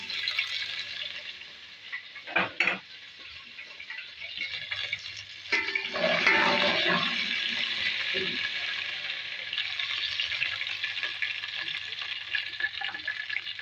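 Vegetables frying in a pan for a fried chickpea recipe, with a steady oil sizzle broken by a few clattering stirs and a louder, fuller burst of frying partway through.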